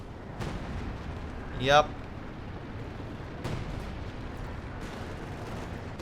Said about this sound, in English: Grenadiers opening fire on the Reckenwerfer.